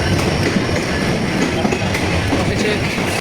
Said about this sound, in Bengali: অফিসে ট্রেন চলে এসেছে আর আমরা ট্রেনের ভিতরে অলরেডি উঠে পড়েছি।